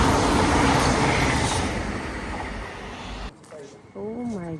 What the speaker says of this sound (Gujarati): આ ફાસ્ટ ટ્રેન છે.